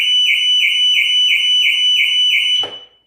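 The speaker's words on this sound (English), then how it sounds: "When I unlock it, you hear the alarm." A car alarm sounds on unlocking, a loud, shrill electronic warble in rapid repeating pulses for a few seconds, then cuts off abruptly with a brief clunk.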